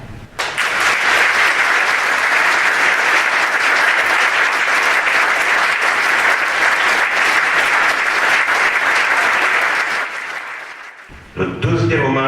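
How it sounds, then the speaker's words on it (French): Sustained, loud audience applause at a French New Year's greetings ceremony honouring police, emergency services and the army, a dense crowd clapping evenly for about ten seconds before dying away, followed by a voice starting to speak. "je vous propose de démarrer cette cérémonie de vœux par un hommage à nos forces de l'ordre et de secours et à notre armée, en les remerciant et en leur offrant nos plus beaux applaudissements."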